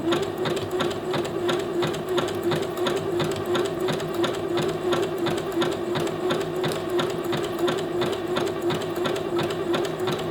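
A sewing machine runs steadily in reverse along an elastic waistband, its needle hammering in a fast, even rhythm. The whirring chatter is close, loud and continuous, with no talking.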